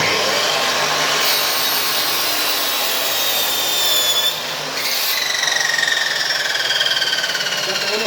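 A miter saw whines loudly and continuously as it cuts through a wooden strip, its pitch dipping briefly midway before the blade spins back up, with no talking.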